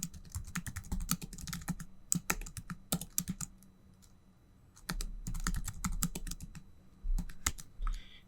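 A password typed on a computer keyboard comes through as close, quick bursts of key clicks with a short pause in the middle before the typing resumes.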